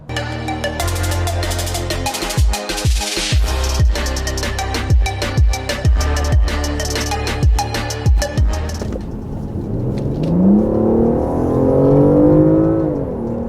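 A BMW 760 Li Edition Black Fire engine revs hard in repeated sharp blips over a steady loud idle, roughly a dozen bursts in quick rhythm, then settles into a rising, smoother drone as the car pulls away.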